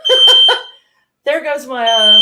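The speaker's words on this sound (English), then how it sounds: "fire alarm" A shrill electronic fire alarm sounds three quick beeps, goes silent briefly, then returns as a loud, continuous piercing tone.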